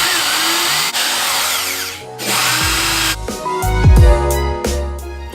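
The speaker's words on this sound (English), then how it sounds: "drill a couple of holes in the wall, put a couple of screws in" A power drill drilling holes in a wall whirs in several bursts, revving up and down between short pauses, close and loud, with a final higher-pitched surge near the end.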